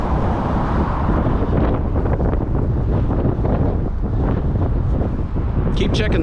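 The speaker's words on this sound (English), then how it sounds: "A lot of wind." Strong wind buffets an outdoor microphone on a walk near the Las Vegas Raiders stadium construction, a loud continuous roaring rumble that swamps the recording throughout.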